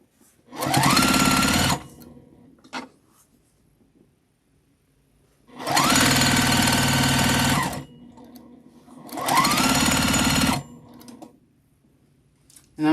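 A sewing machine stitches a scrap-fabric quilt-as-you-go table runner in three loud, steady bursts of a couple of seconds each, separated by quiet pauses.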